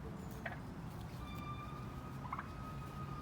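Turkeys call from a short distance with a couple of brief gobbling bursts over a steady outdoor background hum, with no voices present.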